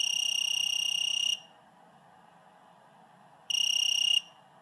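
A Voltcraft VC170 multimeter's non-contact voltage detector buzzes near mains power. A shrill, steady electronic tone sounds in two bursts, a longer one and then a shorter one, separated by near silence.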